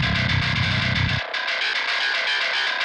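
Gritty, distorted high-end bass guitar tone for modern metal, lows cut away: a heavy full-range chug that suddenly drops to a thin, buzzing, fuzzy top-end sound, played loud and continuous.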